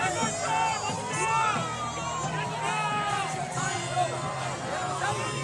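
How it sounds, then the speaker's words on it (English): Crowd yelling at an ICE protest in Minnesota, many overlapping shouts and rising cries packed into a dense, continuous roar, with music faintly present underneath. "Crowd is yelling."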